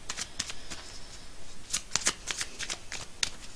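Tarot cards are shuffled by hand in a run of quick, crisp riffling snaps, close and fairly quiet, with a few irregular bursts and no talk.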